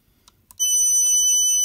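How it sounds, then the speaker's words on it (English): A Snap Circuits motion detector horn blares a loud, continuous high-pitched electronic tone for about a second after a few faint clicks, with no voices. "I could replace the color LED with just the horn"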